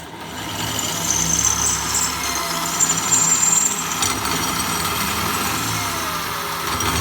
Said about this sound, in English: let's test this setup, drill the 16 holes again, and take a look at the result